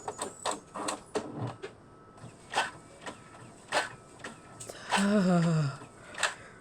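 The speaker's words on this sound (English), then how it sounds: "Someone must have left their printer open again." Mechanical whirring and clicking of a printer feeding paper in a video game, in short bursts, ending in a rising electronic tone before a last click.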